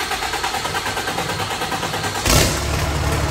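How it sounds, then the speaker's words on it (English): A diesel 4th Gen dually pickup with a hood stack exhaust runs after a cold start: a steady, loud, tractor-like rumble, then a sudden surge of engine noise partway through that settles into a heavier idle. "I've never heard this truck run yet with the new hood stack set up. It sounds like a tractor."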